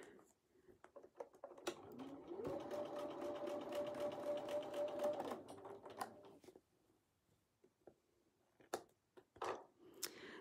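A sewing machine stitches scrappy quilt pieces for a wedding ring quilt block, a steady mechanical whir lasting a few seconds amid scattered handling clicks and soft fabric rustle.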